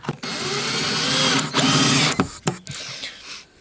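Power drill driving screws into a campervan table, with long whirring runs near and loud, broken by short stops and quick bursts as each screw goes in.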